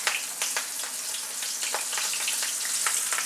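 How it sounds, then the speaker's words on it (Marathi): Cut chillies double frying in hot oil on medium heat for mirch pakoda, a dense, close sizzle with scattered crackling pops. "डबल फ्राय करायच्यात, पण फ्राय कशा करायच्या माहिती आहे का, कट करूनच करायच्या आहेत"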